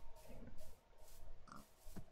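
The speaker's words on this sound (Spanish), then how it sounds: "Tenemos chancho" Pigs oinking in a survival video game, several short grunts and snorts in an uneven rhythm, fairly faint.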